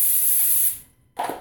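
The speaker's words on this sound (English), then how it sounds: "I'm going to take some of the spray, cooking spray here," Cooking spray hisses from a can into a bowl, loud and close in one sustained burst of about two-thirds of a second, then a short second puff after a pause.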